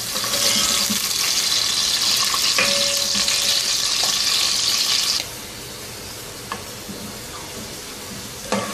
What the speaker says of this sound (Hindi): अनियंस को हम गोल्डन फ्राई करेंगे।